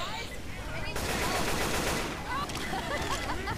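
Gunfire in the zombie co-op shooter Left 4 Dead 2 on the No Mercy campaign, with a dense burst of rapid shots filling the middle of the moment, then lighter crackling while players talk over it.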